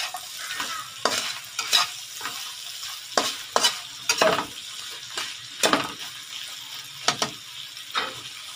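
A spatula repeatedly scrapes and turns seafood paella rice in a pan after a pinch of salt, making rhythmic strokes about every second over a soft, continuous sizzle with no voices.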